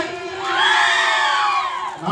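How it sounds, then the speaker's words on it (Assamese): An audience at a Ras Puja dance competition in Abadipara, Bijni, Chirang, shouts and cheers loudly in a sustained, swelling roar of many voices that peaks midway and then eases off. "এটা জোৰদাৰ চিঞৰ লাগে"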